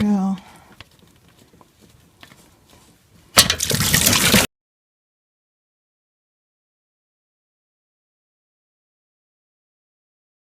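Engine coolant from a Mercedes ML hose gushes into a drain pan in one short, loud splashing burst that stops abruptly, after quiet shuffling and a few soft knocks.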